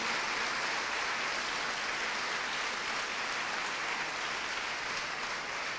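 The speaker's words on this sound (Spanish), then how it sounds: "Y a su nombre, déle ese aplauso fuerte al Rey." A church congregation applauds, a dense, even wash of many hands clapping together that holds steady for several seconds with no voices over it.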